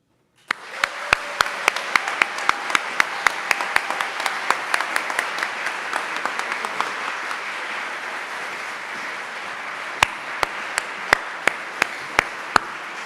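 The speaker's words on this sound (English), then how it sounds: "back to our Andrew Firestone, please join me in an emphatic round of support and applause for teachers here tonight" An audience at an evening salute-to-teachers event for Santa Barbara County educators applauds in a full, sustained round that swells right away and holds steady, with several sharp, close individual claps standing out near the start and again at the end.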